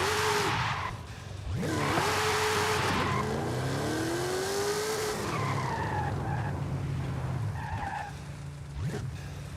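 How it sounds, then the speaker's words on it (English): A 1750-horsepower Jeep Trackhawk in Forza Horizon 5 revs and skids, its tires squealing in long sliding sweeps over a roaring engine, with repeated bursts of acceleration and drifting. "Let's get a run in with the Trackhawk"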